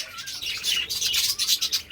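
Budgerigars in a breeding colony with clay-pot nests chirp and warble rapidly, a dense run of high bright tweets and chattering calls close by, without pause.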